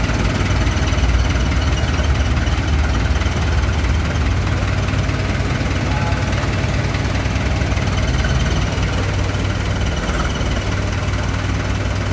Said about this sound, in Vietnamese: Đây động cơ đã lăn bánh rồi nha bà con.